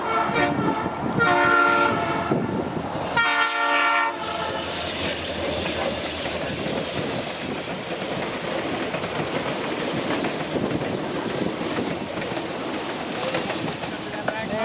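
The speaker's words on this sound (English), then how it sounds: "All right, the train is coming." A train horn blares loudly in a few long blasts at night in Seward, Alaska, then the train rumbles and hisses steadily past; a voice is faintly heard early on.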